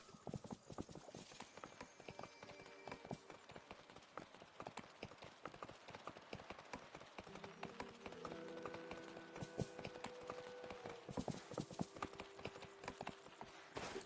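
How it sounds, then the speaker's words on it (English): Hooves of a horse clip-clop at a steady gallop across the ground in the Disney Dreamlight Valley video game, with occasional whinnies and game music layered beneath, fairly close and continuous throughout. "I should really get the horse. The horse will go faster."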